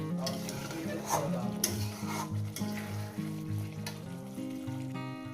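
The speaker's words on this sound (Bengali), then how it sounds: "যতক্ষণ না তেলটা আলাদা হয়ে যাচ্ছে একটু নাড়াচাড়া করবে" White and black mustard masala frying in oil for a Bengali rohu fish curry, a soft continuous sizzle with occasional spoon scrapes while it is stirred, under a steady background melody.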